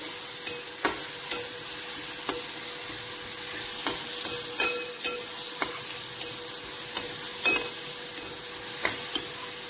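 Ground masala paste is frying in a pan for a drumstick vegetable bhaji. It gives a steady sizzling hiss broken by irregular scraping stirs and small spatters, close and fairly loud, with no voices.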